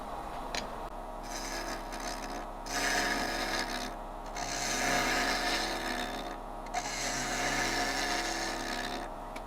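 A wooden canteen flask spinning on a lathe is cut with a bowl gouge, producing a continuous rasping scrape that swells louder in several stretches and briefly drops away between passes.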